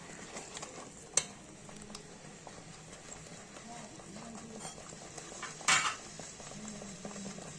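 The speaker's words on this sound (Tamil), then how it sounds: "ஒரு 10 நிமிஷம் 20 நிமிஷம் நல்லா வதக்கிக்கணும்" Raw ground onion masala for egg kuruma is stirred in a pan. Faint spoon scrapes and a soft sizzle sit under talking, with a couple of sharper clinks.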